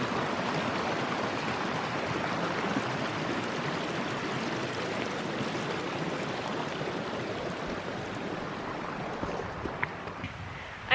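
Acorn Creek, a mountain stream on a hiking trail near Silverthorne, Colorado, rushes and gurgles steadily and close by, a continuous broadband wash with no voices.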